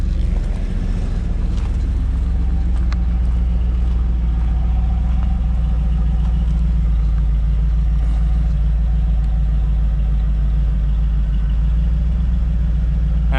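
A 1989 IROC with a 5-speed idles steadily with a deep, rumbling exhaust heard from the rear, loud and close, holding an even low drone throughout with no voices, air conditioning running.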